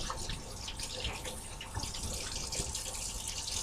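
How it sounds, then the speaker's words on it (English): Warm water runs from a sink tap while hands are wetted, a steady close splashing stream with small drips and no voices over it. "First, you need to cut it on and make sure you have warm running water."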